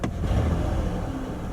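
A Ford Freestar minivan's 4.2 engine idles steadily close by, a continuous low rumble with a brief sharper transient at the very start and no voices.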